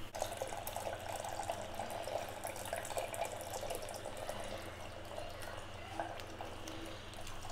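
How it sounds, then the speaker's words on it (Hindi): Milk trickles into a pot of tea being made at home. The faint, steady pouring stream sits under low room noise. "अब इसमें हमने दूध डाल दिया है।"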